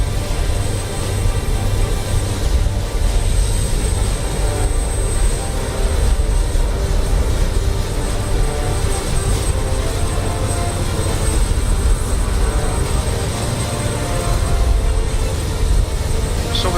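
Aircraft engines on a landing approach over the runway threshold in Microsoft Flight Simulator, a loud, steady jet roar with a low rumble and a faint high whine, continuous and close throughout.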